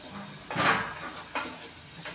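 Potato and peas fry in oil in a pan, with two soft scraping stirs of a spoon over a low steady sizzle, near and quiet.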